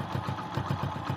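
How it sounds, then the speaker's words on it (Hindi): Steady idle from a Hero Splendor motorcycle with a freshly replaced timing chain: regular low thumping exhaust beats close by, evenly spaced with a faint mechanical rattle, no voices over it. "देख सकते हैं कि इंजन का आवाज़ एकदम से मस्त हो गया है"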